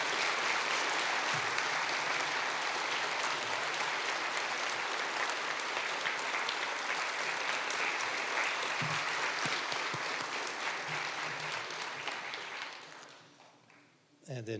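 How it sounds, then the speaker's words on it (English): Steady audience applause at a Veterans Day ceremony in Berlin, a dense wash of clapping that holds for about twelve seconds before fading out, with a brief sound at the very end. "So if we could have a round of applause for Jeff"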